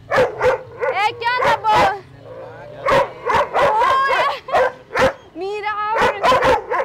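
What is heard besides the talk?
small dog barking and whimpering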